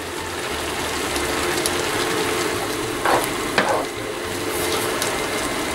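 Ground anise and caraway added to a simmering pan of Tunisian chakchouka sizzle steadily, with a couple of brief stirring scrapes partway through.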